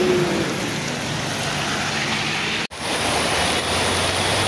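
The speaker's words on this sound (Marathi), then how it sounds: "आता किती प्रमाणात पाऊस जोरात पडतो" Heavy monsoon rain pours steadily over Mumbai streets, a dense, unbroken hiss with one abrupt momentary dropout midway.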